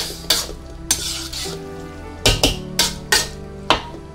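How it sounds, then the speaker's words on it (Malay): Stir-frying kway teow noodles in a pan: a steady sizzle under sharp, irregular scrapes and clanks of a utensil against metal, with no talking. "kuih tiaw ni kita goreng basah-basah"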